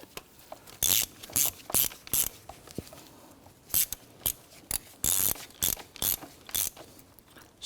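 A hand ratchet snugs down the knock sensor bolts on a 2.0L four-cylinder engine of a 2017-2020 Hyundai Elantra, giving short bursts of quick clicking separated by pauses, close and clear with no talking.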